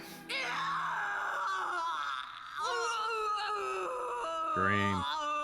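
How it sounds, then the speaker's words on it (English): A character in the video game Enchanted Arms lets out strained, wailing screams and groans in several pitched, sliding bursts, loud and close. "Scream."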